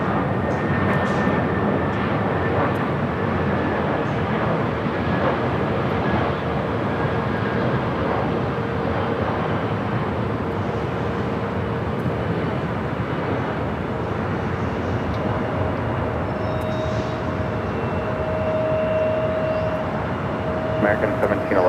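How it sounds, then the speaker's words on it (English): An American Airlines Boeing 787-8 Dreamliner arriving from Tokyo Haneda lands at LAX, its steady broadband jet roar holding loud and continuous throughout, with a faint higher engine whine emerging near the end. "American Airlines flight 26 coming in from Tokyo Haneda on a 787-8 Dreamliner."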